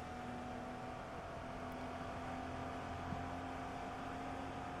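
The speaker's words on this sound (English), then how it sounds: "Just the engine noises in this game are unbelievable for its time." Porsche 914/6 flat-six engine in Forza Motorsport 2, a steady sustained drone humming at a fairly constant pitch throughout, faint and even with no speech.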